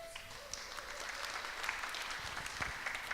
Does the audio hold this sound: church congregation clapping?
yes